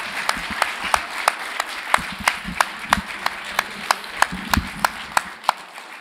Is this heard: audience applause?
yes